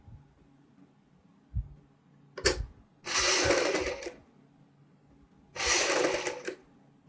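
Sewing machine stitching a front V-neck on a garment, two bursts of close, steady motor whirring about a second each, separated by a pause, with a few brief clicks and handling knocks before.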